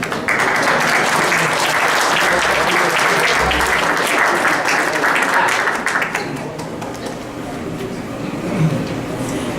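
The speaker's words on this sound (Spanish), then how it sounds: "Vamos a darle un aplauso." An audience at an indoor forum on Indigenous shelters in the Sierra Tarahumara claps in sustained, dense applause that holds strong for several seconds, then thins out toward the end.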